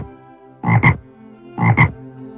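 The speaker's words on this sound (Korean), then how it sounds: "아들 두꺼비는 알아듣지 못할 소리를 중얼거렸습니다." A toad croaks in a cartoon retelling of Thumbelina, giving two double-pulsed croaks about a second apart, each a quick pair of throaty bursts. They are loud and close, alone over a faint background hum.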